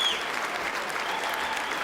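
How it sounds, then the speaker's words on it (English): Snooker crowd giving a standing ovation after Ronnie O'Sullivan's 147 break to win the 2014 Welsh Open, a steady, dense wash of applause throughout, loud and continuous with no pauses. "A standing ovation throughout the crowd."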